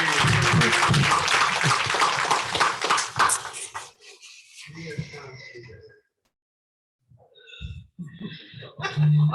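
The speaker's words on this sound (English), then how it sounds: "Can we give our elders another round of applause?" Applause for the elders at a community program fills the opening seconds, dense and close, then fades into scattered coughs, breathing and brief noises with a silent gap before sounds return.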